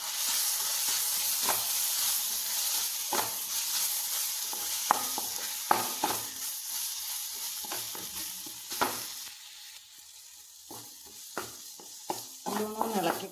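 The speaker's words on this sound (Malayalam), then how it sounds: "നല്ലോണം ഇളക്കി കൊടുക്കുക" Chilli powder, Kashmiri chilli powder, garam masala and turmeric frying in a pan, a soft hiss broken by sharp, irregular spatula scrapes and knocks, quieter toward the end with a voice briefly heard.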